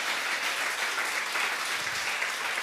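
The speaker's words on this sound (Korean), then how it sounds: "주님께 영광의 박수 올려드려요" Congregation applause fills a church during a Friday worship service, a steady, dense clapping that holds evenly at full strength throughout without pause.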